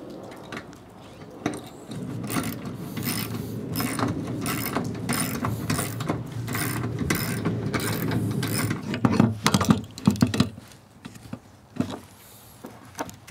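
A ratchet wrench tightens bolts while a ladder is mounted to a Sprinter van rack, with a long run of rapid, close pawl clicks followed by a few slower, heavier turns and knocks.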